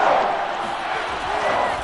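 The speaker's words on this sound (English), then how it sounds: "The crowd getting into it as we come up on a big 3rd down." A stadium crowd at a Saints versus Vikings football game roars in a dense, continuous wash of cheering as a big third down approaches, loud and unbroken.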